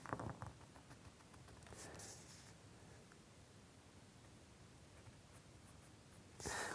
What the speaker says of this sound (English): And just digging the pencil in.